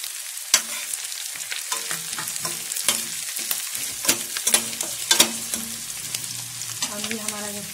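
Chopped onion, green chili and green garlic leaves fry in hot oil for mustard greens, sizzling steadily while a spoon stirs and scrapes the pan with intermittent clinks, close and continuous.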